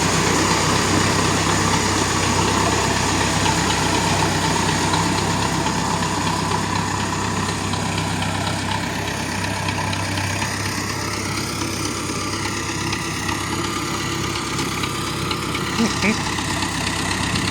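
A T-40 tractor engine runs in fifth gear while raking hay, a loud, steady, close diesel drone that holds for the whole stretch with a slight rumbling vibration.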